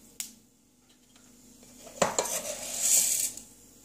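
Mustard seeds tossed into hot sesame oil in a pan for a South Indian tamarind gravy give a sharp metallic clink, then a brief, bright crackling sizzle that swells and fades, with quiet pauses around it.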